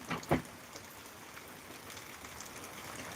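Heavy rain falling in Welchala village in Karimnagar district, heard as a faint, steady hiss throughout, with a couple of brief knocks near the start.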